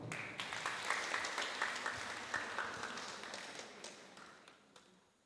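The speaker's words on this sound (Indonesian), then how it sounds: "Berikan tepuk tangan untuk Pendeta" A church congregation applauds a pastor at a thanksgiving service for a women's ministry anniversary, scattered hand claps pattering fairly faintly and steadily, fading toward the end.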